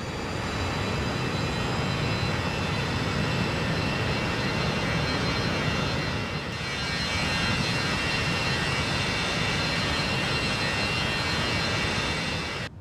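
Cessna Longitude business jet's twin engines held near full throttle during a steep climb in a flight simulator, a steady, loud broadband roar with a constant high whine, briefly dipping midway before resuming.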